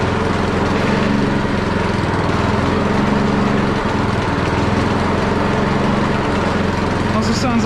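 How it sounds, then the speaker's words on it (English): Troy-Bilt snow blower with its engine and auger running, a steady, loud, close mechanical drone that holds without break throughout. "Then we got our auger. Sounds like it's working."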